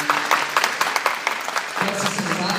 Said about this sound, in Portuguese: Podemos aplaudir palavra do Senhor.